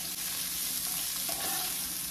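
Onions sautéing in a pan, a dense, even sizzle that stays loud and close with faint stirring.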